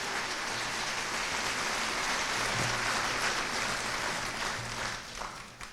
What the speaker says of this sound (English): You can clap for Eureka.